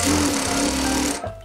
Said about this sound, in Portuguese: a gente vai colocar nessa marcação e vamos passar uma costura